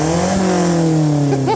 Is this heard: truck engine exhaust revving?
yes